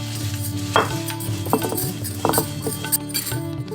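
Spices for masala paneer rattling and scraping as they dry roast in a pan, with clinks as they are stirred and a low hum in the background, no talking.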